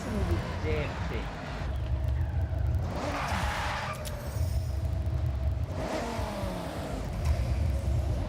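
A Lexus LFA engine revs loudly, rising and falling in two or three sweeping pulls, with a voice talking over parts of it.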